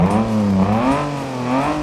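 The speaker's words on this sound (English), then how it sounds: "This mod has a custom engine sound." A BMW E30 with a 6-cylinder engine in the driving game BeamNG revs steadily, its smooth harmonic tone rising and falling and then climbing again, loud and close with no voices.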